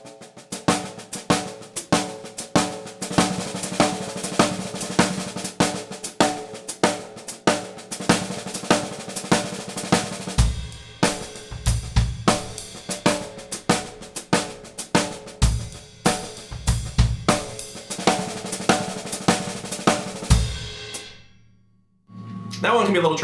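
A drum kit plays a fast sixteenth-note pattern with an accent on the second sixteenth, first in single strokes and then with doubles, in a busy, continuous stream of close, punchy hits and cymbal wash with a short pause between passes.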